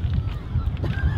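A person on a windy Welsh seaside imitates a seagull with a brief honking, squawking call, heard over rough wind noise and low rumble.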